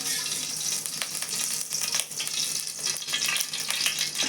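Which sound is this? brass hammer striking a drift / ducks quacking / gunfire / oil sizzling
oil sizzling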